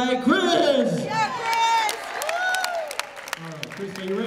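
A crowd at a Mother's Day luau at St. Paul's claps and cheers for Chris, the photo booth guy. Steady applause is mixed with loud whoops and shouted voices throughout, and talk rises over it near the end.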